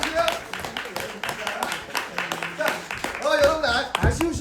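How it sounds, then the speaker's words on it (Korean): An audience at a theater play claps in brief, scattered bursts, the sharp hand claps mixed in with people talking and calling out nearby. "박수 한번"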